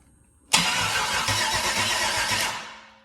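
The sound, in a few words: LS 6.0 engine cranking and starting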